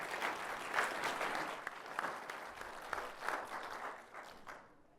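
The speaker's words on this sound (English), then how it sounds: "So I want to give Anna a round of applause for that" Audience applause for a presenter at a Microsoft business conference session, a steady wash of clapping held for several seconds before thinning out and fading near the end.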